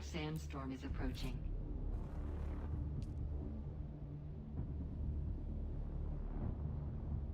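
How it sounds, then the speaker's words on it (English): A large sandstorm approaching in a survival base-building video game: a steady low rumble and roaring wind that holds throughout, opening with a brief burst of a synthesized alert voice. "Sector weather alert. A large sandstorm is approaching."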